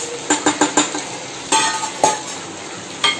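Boiled Maggi noodles are stirred through fried onion and carrot in a pan: a quick run of four scraping, clinking strokes, then a few slower, louder stirs over a soft sizzle, close and without talk.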